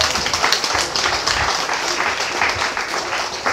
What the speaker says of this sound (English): Let's give them a round of applause for making that possible.